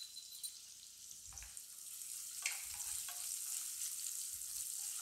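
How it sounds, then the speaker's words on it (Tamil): Onions with a pinch of salt sauté in a pan, a soft steady sizzle with a few louder stirring scrapes and clinks; no one speaks. "வெங்காயம் வதங்குறதுக்காக கொஞ்சமாக உப்பு சேர்த்துக்கிறேன்."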